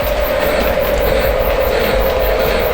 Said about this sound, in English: run the train as slow as it will move on the layout